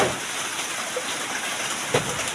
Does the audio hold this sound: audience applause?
no